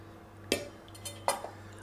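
Butter dropped into crêpe batter in a mixing bowl, with two soft knocks against the bowl spaced under a second apart over a faint steady hum, and no voices.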